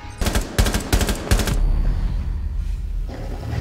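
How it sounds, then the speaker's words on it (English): Rapid automatic gunfire from Rainbow Six Siege, several loud bursts close together in the first second and a half, then a fading tail of echo and low rumble. "I shot that guy up so many times, and he just gets lucky with one fucking bullet"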